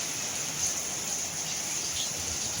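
Steady, dense hiss of heavy rain pouring continuously in Dubai, loud and close, with no breaks or voices.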